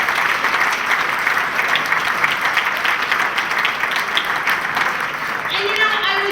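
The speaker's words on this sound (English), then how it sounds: "If we could get a big round of applause for these 4 guys." Sustained applause from a crowd of guests at a Queens Winter Pride fundraiser dinner, a steady dense clatter of clapping that holds evenly throughout, with some voices mixed in.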